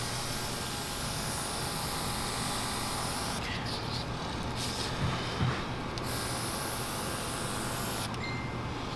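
Steady, soft hiss of an airbrush spraying dye over tooled leather, running continuously with a few short breaks in the flow, close and quiet.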